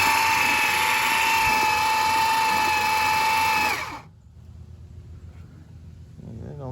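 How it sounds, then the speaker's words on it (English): A 1973 Dodge Charger engine that sat for twenty years is cranked over by a Mopar starter, a loud, steady whirring grind that runs for about four seconds and then cuts off, leaving a faint hum. "They don't sound like my normal mopar starters."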